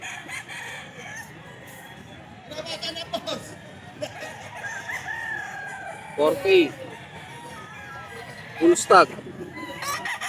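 Roosters and chickens at a Grotto tiangge market stall crow and cluck in short bursts beneath a busy market backdrop, while people talk nearby.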